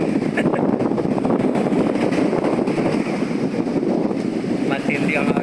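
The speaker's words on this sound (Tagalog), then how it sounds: "umugong malakas na hangin" Strong wind blows along the Dingalan seashore in Aurora, a constant loud roaring rush buffeting the microphone for the whole stretch.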